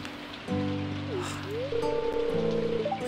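Rain patters steadily in the Stardew Valley video game under tonal game music and sound effects, with a soft continuous hiss throughout.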